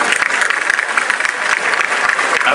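An audience at the Montpellier city hall inauguration applauds warmly for the architect, a loud, close, continuous burst of many hands clapping throughout.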